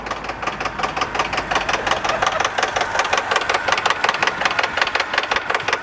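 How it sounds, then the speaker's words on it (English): A Subaru BRZ engine idles with a rapid, regular metallic clacking from a suspected timing belt tensioner, loud and close, the ticking pulses evenly spaced over the steady engine hum. "the engine is actually starting to clack away now"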